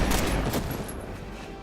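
Rapid gunfire from a weapon emptying its whole magazine in Marvel's Midnight Suns, a dense, loud, unbroken burst of shots packed tightly together.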